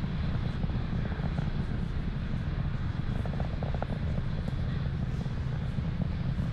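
A SpaceX Falcon 9 rocket climbing through supersonic flight gives off a steady, dense roar that holds unbroken at moderate level throughout, with no voices.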